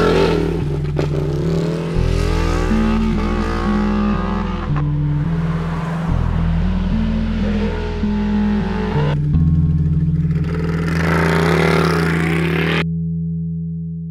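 A Ducati 1199 Panigale S motorcycle engine revs loudly and repeatedly, climbing and dropping in pitch through a string of throttle blips before settling to a steady idle, close to the microphone with no talking.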